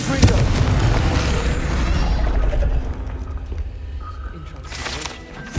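A Confringo blasting curse going off in Hogwarts Legacy on PS5: a loud, rumbling burst of explosive booms with mechanical crackle, lasting a few seconds and fading out, with a voice talking over it.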